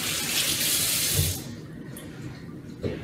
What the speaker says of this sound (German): Beim Ingwer ist es wichtig, den Ingwer heiß abzuspülen.